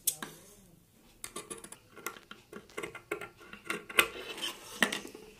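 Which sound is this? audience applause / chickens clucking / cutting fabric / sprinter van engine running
cutting fabric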